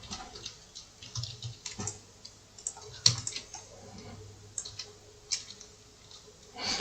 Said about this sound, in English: I'm gonna hold down G on my keyboard